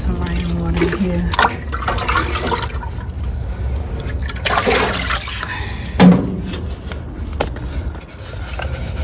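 Rainwater from a jug is poured onto potted tomato and spinach seedlings set out in the sun outdoors, a gurgling, splashing stream with a few surges and drips, fairly close and loud.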